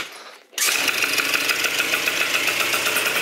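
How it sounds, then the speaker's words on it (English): A Phantom F12 70cc scooter engine cold-starting: a moment of quiet, then it catches abruptly and settles into a loud, steady, buzzing idle up close. "I haven't started yet, so it's a cold start, but I can still start the bike like that with no power going."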